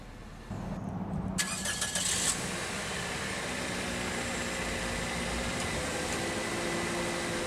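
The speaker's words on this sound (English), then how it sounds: "let's go ahead and start the engine" A 2005 Toyota Corolla LE engine cranks briefly and catches, then settles into a steady, smooth idle heard close up from inside the car, with no one speaking.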